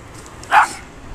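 A single short dog bark or yip, fairly close and sharp, rises briefly over a quiet outdoor background in snow.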